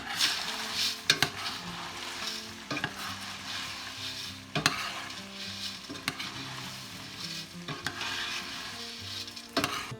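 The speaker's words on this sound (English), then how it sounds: "Now we're going to stir in our rice" White rice being stirred into a large pot of jambalaya, a steady simmering hiss broken by repeated scraping sweeps of a spoon along the pot, with sharper clanks every couple of seconds and no voices.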